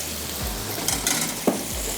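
Meat masala roasts in a pan with a quiet steady sizzle and a few clinking stirs and scrapes, close and fairly soft.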